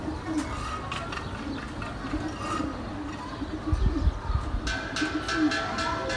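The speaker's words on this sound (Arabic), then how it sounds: "بص الحمام بقى رابط في بعض اهو وماشي بكل ثقه" A flock of domestic pigeons coos in soft, repeated low murmurs over a steady outdoor background, with a few brighter bird chirps scattered through.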